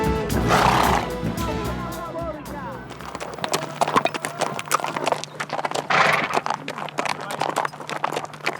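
Horses whinnying loudly at the start and again later, with steady clip-clopping hooves throughout, close and busy, in Semonkong, Lesotho.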